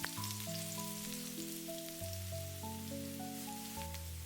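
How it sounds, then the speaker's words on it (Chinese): Ginger and garlic fry in a little hot oil in a wok over low heat, giving a soft, continuous sizzle beneath louder background music. "开小火把姜蒜炒出香味"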